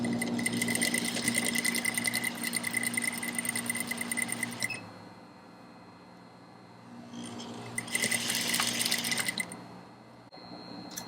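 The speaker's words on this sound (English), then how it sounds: "I'm going to sew 1/2 inch top stitching all the way around the top and the bottom" An industrial sewing machine runs top stitching along the edge of a corset in two loud, steady bursts of rapid stitching, with a quieter pause between them and a faint hum continuing in the gap.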